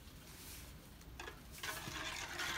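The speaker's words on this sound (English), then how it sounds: "That nice little stir around." Salt being stirred into a pot of turmeric dye, faint close-up swishing and liquid scraping that grows a little busier and louder toward the end, with no talking.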